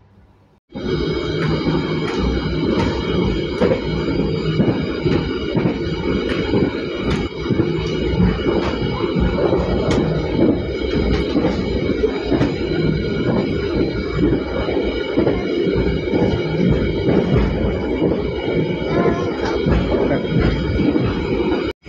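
Steady rumble of the moving Kertanegara train in Indonesia from inside the carriage, with continuous low rolling noise and a faint high whine, no talking.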